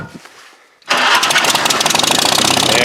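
A Farmall tractor engine, previously a little sticky, catches and runs after being put into gear: a quiet lead-in gives way to a loud, close, rhythmic chugging that settles into a steady pulsing idle.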